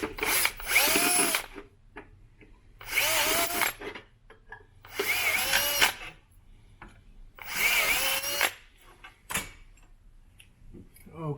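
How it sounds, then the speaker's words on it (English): Power drill enlarging a bolt hole in kayak landing gear parts, in three loud bursts of about one and a half seconds each, separated by quieter pauses with faint handling noise. "So now I'm just making the hole a little bit bigger."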